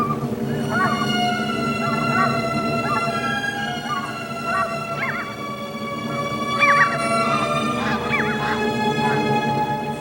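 Geese in an Arctic goose colony honk again and again, a busy overlapping chorus of calls near and farther off, continuing under a narrator's voice.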